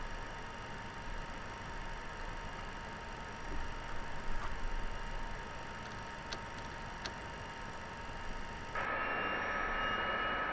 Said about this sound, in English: So let's continue taxiing, bring the spoilers in, bring the flaps up.